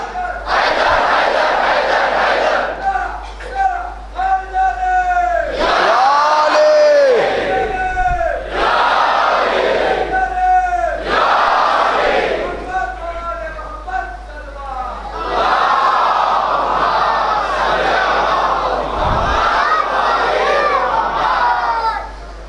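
A large crowd at a Muharram night majlis chants "zindabad" together in loud repeated shouts, hands raised, with a voice leading between rounds and cheering swelling throughout.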